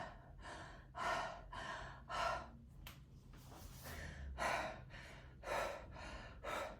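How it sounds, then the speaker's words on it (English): A person demonstrates breathing into the upper chest, taking deep, audible breaths close to the microphone: sharp gasping inhales and sighing exhales in a steady rhythm, with no talking. "How we breathe is generally like this."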